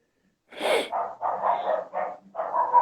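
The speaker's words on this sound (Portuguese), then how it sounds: "Agora aumentou o cachorro." A dog barks in a rapid series of about six harsh, fairly loud barks close by, with short gaps and no talking over them.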